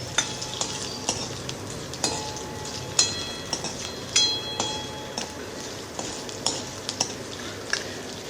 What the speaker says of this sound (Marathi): ज्या कढईमध्ये मसाला आपण भाजला होता त्या कढईमध्ये तुकड्यांना आपल्याला फ्राय करून घ्यायचं आहे